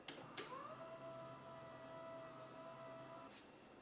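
A quiet electric motor hums steadily, its pitch rising briefly at the start, then running evenly for about three seconds before stopping.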